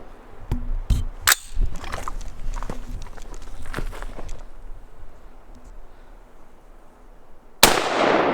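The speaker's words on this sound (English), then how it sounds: "Let's count how many shots it takes." Rapid sharp cracks from a .223 rifle striking a brick wall, a burst of several closely spaced shots in the opening seconds, loud and near, followed by quieter rustling and a final abrupt burst at the end.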